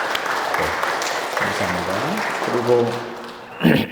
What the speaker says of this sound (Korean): 우리 박수로 한번 환영하도록 하겠습니다.